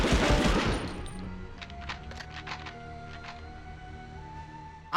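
Gunfire in the Medal of Honor video game: a dense burst of shots at the start, then scattered fainter cracks and pops over a steady background hum.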